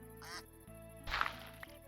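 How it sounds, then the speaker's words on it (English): Chicken clucks from modded Minecraft: a few short, bright, harmonic calls, the loudest near the middle, over a steady low game-music drone with no talking. "And possibly the last chicken in Podnik."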